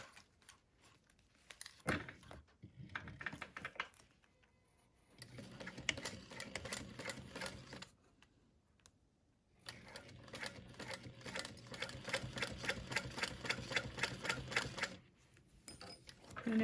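A sewing machine runs in bursts stitching a fabric Batwing wallet with a zipper, its rapid mechanical clatter stopping and starting with short pauses between runs; faint talk surfaces briefly.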